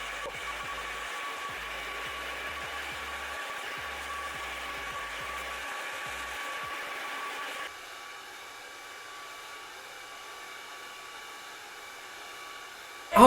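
A hair dryer blows nearby in a steady loud whoosh as hair is dried with a round brush, with low brushing thumps early on. The airflow shifts to a different, thinner tone about halfway through.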